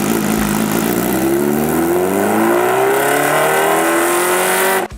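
A supercharged Kawasaki H2R track-only motorcycle with a 998cc inline four-cylinder engine revs hard and accelerates, its loud, continuous howl climbing steadily in pitch for about five seconds before cutting off abruptly.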